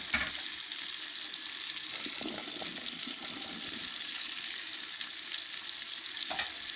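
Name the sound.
stirring fried rice with green beans and pepper in pot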